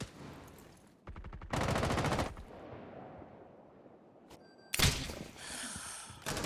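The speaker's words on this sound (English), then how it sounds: "More gunshots coming out. We can hear that, by the way." In the video game Rainbow Six Siege, bursts of rapid automatic gunfire alternate with quieter stretches, then a loud blast and more sustained shooting, all fairly close and with no talking.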